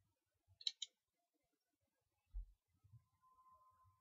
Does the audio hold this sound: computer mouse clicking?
yes